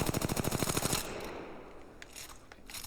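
A rapid automatic burst of video game gunfire during recoil practice, a fast, even string of loud shots lasting about a second, then a few scattered single shots and echoing tails.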